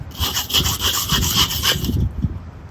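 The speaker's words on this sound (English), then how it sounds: "it's just nice to come around every so often and give it a quick scrape" A high-impact plastic scraper rasps back and forth across a Weber kettle grill grate, a steady run of about a dozen quick, close, loud scraping strokes that stops abruptly near the end.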